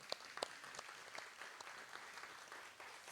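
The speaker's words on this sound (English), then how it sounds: "and I want another round of applause." A short, faint round of applause from a meeting audience, a few scattered claps at the start blending into a steady soft patter of clapping that continues evenly throughout.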